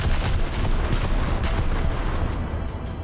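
Dreadnought naval gunfire in War Thunder, a steady dense roar of battle with several sharp booming reports scattered through it, loud and continuous, no talking.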